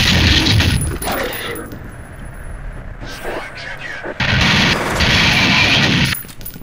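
Grenade explosion and gunfire in the first-person shooter FEAR: loud bursts of crashing blasts and rapid shots, broken by a short lull, then another heavy barrage before cutting off.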